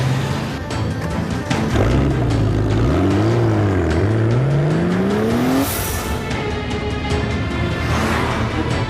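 Car engine revving and rising in pitch as the vehicle speeds away in a chase through a busy city district, loud and close, with tires and road noise underneath and no talk.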